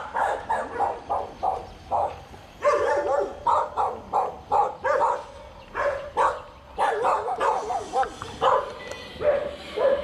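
A pack of stray and village dogs barks in the Temuan tribe village of Bukit Lanjan, Petaling Jaya, with steady overlapping barks and yips coming close and loud for the whole stretch.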